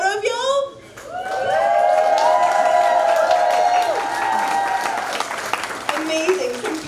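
A packed comedy room audience cheering and applauding loudly together, whoops and shouts over steady clapping, sustained for several seconds after a brief spoken prompt.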